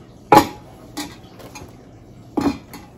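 Two sharp metallic clanks of an enamel cooking pot being handled while car camping, about two seconds apart, close by with quiet rustling between.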